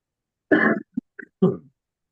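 A single harsh cough followed by a couple of short throat-clearing grunts, close and loud, then silence.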